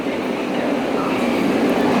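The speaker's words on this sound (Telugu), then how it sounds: "సికింద్రాబాద్ టు విశాఖపట్నం వెళ్ళే వందే భారత్ ఎక్స్ప్రెస్ విజయవాడ రైల్వే జంక్షన్లో ఏడో నెంబర్ ప్లాట్ఫారంకి వచ్చి ఉన్నది" The Vande Bharat Express from Secunderabad to Visakhapatnam pulls into platform seven at Vijayawada railway junction, a loud steady rumbling roar of the train filling the whole stretch.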